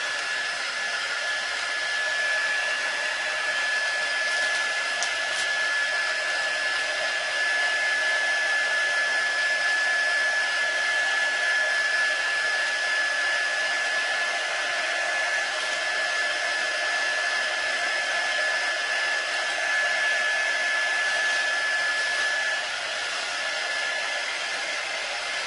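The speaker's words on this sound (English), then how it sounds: "It is very tempting to keep on, you know, placing the heat gun on it" A heat gun blows a steady, even whir while shrinking cellophane wrap around a Christmas gift hamper, continuous and close with no pauses.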